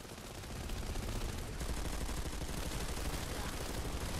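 Continuous SMG fire from an infiltrator in Planetside 2 forms a dense, unbroken rattle of rapid shots that runs loud and steady across the whole stretch with no pause.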